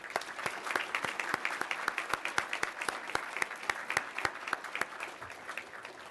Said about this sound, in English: Please join me in honoring them right now with a special round of applause.